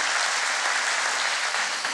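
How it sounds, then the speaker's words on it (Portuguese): A church congregation applauds steadily, a dense and continuous wash of clapping from many hands that stays even for the whole stretch, with no voices rising above it. "Você pode dar uma salva de palmas?"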